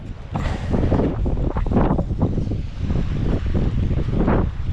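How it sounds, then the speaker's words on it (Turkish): Strong wind buffeting the microphone in loud, gusty bursts on a rocky tropical island shoreline, with a broad roar that suggests surf or water nearby. "Çok rüzgar var."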